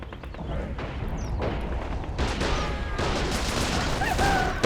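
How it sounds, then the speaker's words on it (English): A grenade explosion bursts amid rapid battlefield gunfire in the World War II strategy game Men of War: Assault Squad 2, set in the Netherlands in 1944; loud dense shots and booms crowd together, with a sharp blast at the end. "Oh, grenade."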